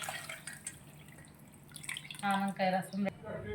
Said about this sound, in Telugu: చింతపండు రసం పోస్తున్నారు. చింతపండు రసం పోసుకోవాలి.